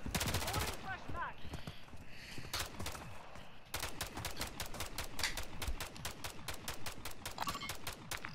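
Rapid bursts of automatic gunfire from Call of Duty Modern Warfare 3 crackle loud and close, with dense repeated shots in the opening seconds and a long sustained volley after a short pause, with brief voice chatter underneath.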